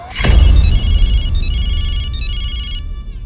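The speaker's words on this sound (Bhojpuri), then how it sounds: "फोन उठाओ" A telephone rings with a loud, repeating electronic ringtone in bursts. It starts after a sharp opening hit and plays alone with no talking.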